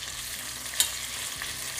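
Chicken pieces frying in their own fat in a pan for a butter chicken pilaf, turned over with a brief scrape: a faint, soft, steady sizzle.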